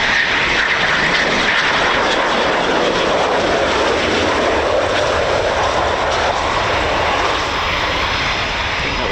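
A Eurofighter Typhoon FGR4 jet, the spare display-team aircraft at an RAF station, roars loudly and continuously as it flies, a dense unbroken engine blast with no voices.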